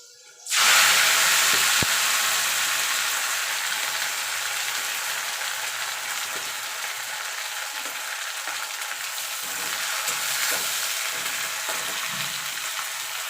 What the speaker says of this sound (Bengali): এবার নিম পাতাটা আগে আমি ভেজে নেবো